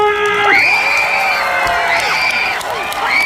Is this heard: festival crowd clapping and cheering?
yes